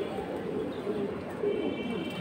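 Pigeons coo softly and steadily in a coop, a pair among breeding birds with eggs and young, the low murmuring continuous with a few brief louder notes, no talk.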